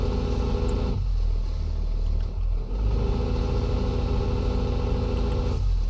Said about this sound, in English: Too low engine RPM increase.